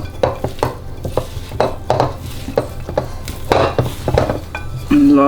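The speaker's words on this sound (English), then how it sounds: "and mix again." Christmas pudding batter being mixed in a bowl, with rhythmic spoon strokes scraping and knocking against the sides, close and fairly loud, with a brief clatter near the end.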